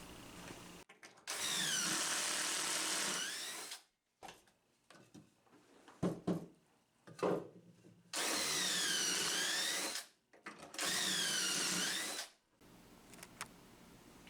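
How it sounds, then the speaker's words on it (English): Power drill boring pocket holes into pine boards through a pocket hole jig, three loud sustained whining bursts of a few seconds each, separated by quieter clunks and handling noises. "With my pocket holes drilled"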